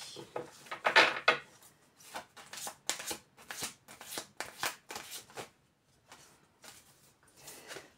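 Tarot cards are shuffled and handled close up, a series of crisp riffling bursts and soft flips in an irregular rhythm with short quiet gaps between them.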